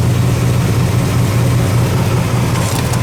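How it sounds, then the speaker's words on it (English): A 1969 Roadrunner engine rumbles through new dual exhaust, a loud, deep, steady idle burble close by with no talk. "brand new dual exhaust, sounds good."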